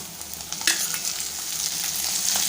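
Finely chopped tomato sautéing in oil with softened onion, a loud, dense sizzle with scraping stirs and a few sharper spoon knocks, rising slightly over time.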